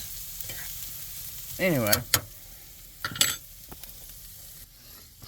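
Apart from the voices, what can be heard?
onions simmering in a pan in a van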